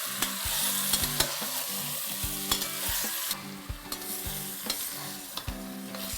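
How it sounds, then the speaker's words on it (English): Grated tomato fries in a mutton curry, giving a steady sizzle close by with repeated sharp clicks and scrapes of a spoon stirring against the pot. "And now fry this for another 3 to 4 minutes."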